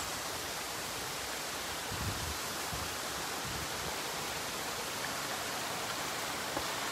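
Water of the Fountain of the Organ at Villa d'Este in Tivoli, a dense, steady rushing roar of falling and splashing water that fills the scene continuously, with no talking.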